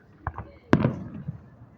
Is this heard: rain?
no